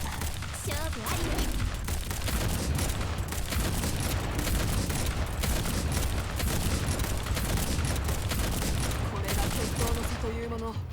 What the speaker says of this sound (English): I just love the sound of IWS just blasting giant rail cannon shots downwind